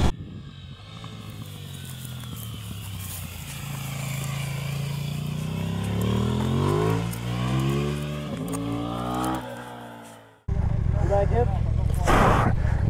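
A 2024 KTM 990 Duke motorcycle engine under riding, a steady loud drone whose pitch climbs as it accelerates through the gears, then drops off briefly before resuming, with wind rushing across the microphone.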